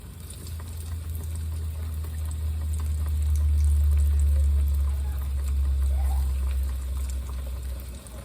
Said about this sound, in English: I'm going to add a little more water. Let that bubble again.